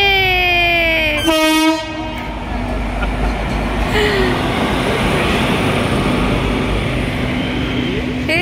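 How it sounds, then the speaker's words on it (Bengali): Train passing close by with a loud horn blast at the start, followed by a sustained rumbling roar of wagons rolling over the rails. "দেখো ট্রেন যাচ্ছে, টাটা করে দাও, টাটা বলে দাও ট্রেনকে।"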